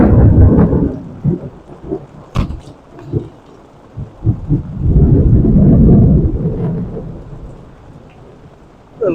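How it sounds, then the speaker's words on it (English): A thunderstorm at a forest campsite in the Ouachita National Forest, with loud rolling thunder rumbles and sharp cracks over steady rain, swelling and fading across the stretch with no talk. "what a storm"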